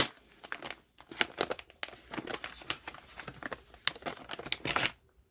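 Gift wrapping paper crinkles and tears as a present is unwrapped, with dense, close rustling and sharp crackles for about five seconds before it suddenly stops. No one speaks.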